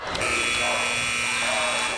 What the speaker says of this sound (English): and before the buzzer sounded